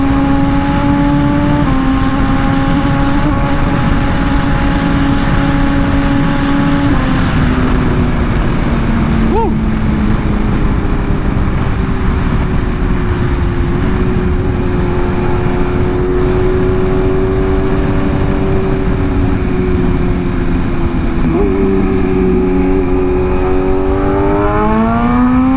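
BMW S1000RR M Package motorcycle engine held at a loud close idle, then pulled up through rising revs in several surges, with a voice talking briefly over it.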